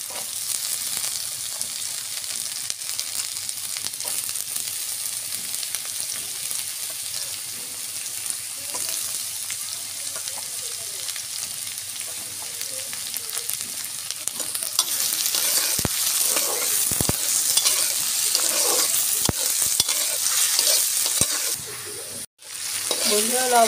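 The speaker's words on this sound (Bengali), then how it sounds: "আলুটা আগে পেঁয়াজ রসুনের সাথে একটু ভাজা করে নেব।" Potatoes fry with onion, garlic and green chili in a pan, a steady close sizzle with stirring scrapes, growing louder later with a few sharp knocks of a spoon against the pan.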